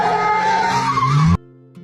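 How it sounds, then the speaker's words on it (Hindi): Big shiny car skidding to a halt with a sharp tire squeal and engine roar, loud and close, cutting off abruptly into near silence with a faint hum. "4 साल बाद एक बड़ी चमकती हुई गाड़ी गांव के बाहर आकर रुकी।"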